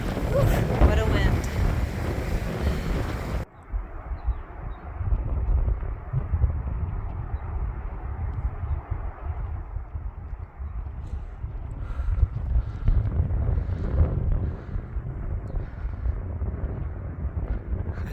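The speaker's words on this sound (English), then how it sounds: "what a wind" Strong wind roars on a high mountain pass in the Sierra, a loud, steady, buffeting rush that batters the microphone throughout, heaviest in the first few seconds and then continuing as a constant low blustery roar.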